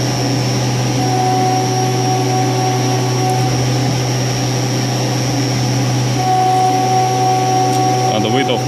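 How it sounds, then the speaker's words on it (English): A CNC mill cuts aluminum with a sharp 10 mm solid carbide end mill, producing a loud, steady tonal whine and hum from the spindle and cut that holds evenly throughout. "So it's a 10mm solid carbide end mill, meant especially for aluminum."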